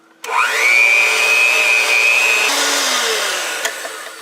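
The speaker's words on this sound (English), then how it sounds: "now we're done with the mixer" An electric hand mixer beats a cheese ball mixture in a bowl for a holiday recipe, its steady whirring motor loud and close with a high whine, running alone for about four seconds.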